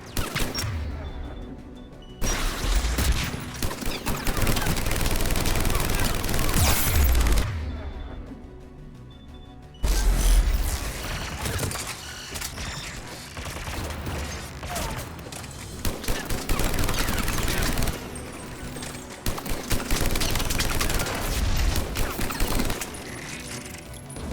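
Sustained bursts of rapid gunfire and explosions fill a Mass Effect 3 firefight against Geth forces, loud and dense with brief lulls, while voices call out over the combat.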